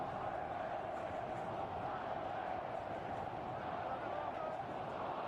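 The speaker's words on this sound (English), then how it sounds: "the crowd once again start to exercise their vocal cords" Crowd at a Premiership rugby match between Harlequins and London Irish, a continuous dense roar of massed voices swelling into chant, steady and fairly distant throughout with no clear individual words.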